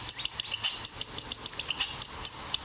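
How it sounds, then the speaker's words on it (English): A recorded red squirrel call plays: a rapid series of sharp, high chirping chatters, about a dozen evenly spaced bursts over a couple of seconds, close and fairly loud with no talking. "I've got another one here, the red squirrel."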